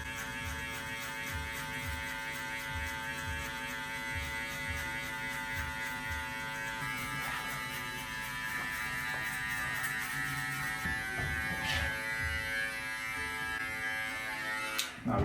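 Electric hair clippers with a 1.5 guard cutting a skin fade at a London barber studio, a close continuous buzzing hum with faint rhythmic strokes through hair.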